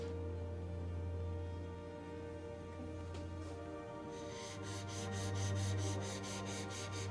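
A woodworking chisel bevel is sharpened on a stone, a faint scraping that turns into a run of quick, regular strokes toward the end over a steady low hum.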